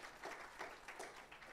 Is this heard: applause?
yes